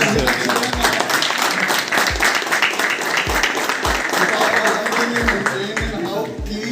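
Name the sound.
round of applause during a hotel school tour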